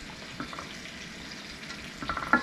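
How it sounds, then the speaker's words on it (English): A smallmouth bass dish with sautéed vegetables is stirred in a frying pan under a soft, steady sizzle, with light scraping and clatter from the utensil that grows busier near the end. "I'll mix it all together,"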